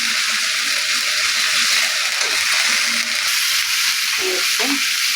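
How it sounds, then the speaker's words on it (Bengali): Onions hit hot oil in a pan for a rohu fish and bottle gourd curry, giving a loud, steady hiss and crackle that stays constant throughout. "তেল গরম হয়ে গেছে এবার দিয়ে দেবো পেঁয়াজ"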